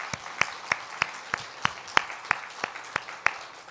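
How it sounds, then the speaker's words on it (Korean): A church congregation claps slowly in unison during a Sunday service, about a dozen sharp, evenly spaced claps ringing out in a reverberant hall, moderately loud with no talking. "열심히 공부하라고 박수로 격려하겠습니다."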